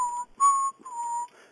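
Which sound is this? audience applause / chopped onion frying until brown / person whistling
person whistling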